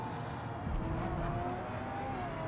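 Race cars on a track in a racing video game, a continuous engine drone with rising pitch as the throttle is held, loud and steady with no pauses.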